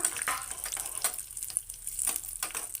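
Cashews frying in a pan for Kerala halwa make a soft, uneven sizzle broken by short scraping and stirring bursts, close but fairly quiet, with no talking.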